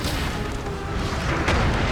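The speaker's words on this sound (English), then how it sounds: "We get some cannon fire and this massive amount of infantry here." Cannon fire in the Napoleonic strategy game Napoleon: Total War, a dense, continuous rumble of booming artillery with a stronger burst near the end, heard as loud battle ambience without speech.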